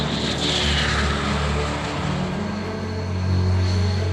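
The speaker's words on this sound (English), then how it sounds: "landing in France on board his Airbus 319 presidential plane" An Airbus 319 presidential plane landing in France gives a loud, steady jet roar that holds throughout and swells slightly near the end, with no voices.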